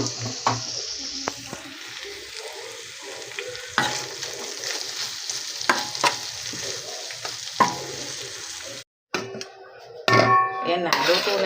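Sisig frying in butter in a pan, a steady sizzle with scraping and stirring clatter of a utensil against the pan throughout, briefly cutting out near the end before resuming louder.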